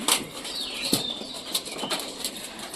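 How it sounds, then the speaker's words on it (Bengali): Pigeon chicks flapping their wings near a coop, a few soft fluttering bursts with light rustling, fairly close, with no talking. "হুমার বাচ্চাগুলো বাইর হওয়ার পরে মানে ডানা ঝাপটাচ্ছে"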